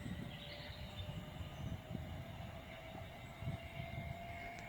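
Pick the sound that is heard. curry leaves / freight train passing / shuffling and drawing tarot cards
freight train passing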